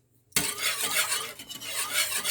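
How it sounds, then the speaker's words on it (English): Fresh milk being whisked with a simple hand whisk, a steady swishing broadband rasp that starts abruptly and continues without pause, close and fairly loud. "I'm going to mix that one using my simple whisk"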